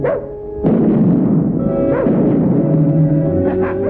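A dog in a 1950s Western television episode barks amid a busy burst of loud ambient action and scuffling, the barks blending into the dense, continuous soundtrack rather than standing clearly apart.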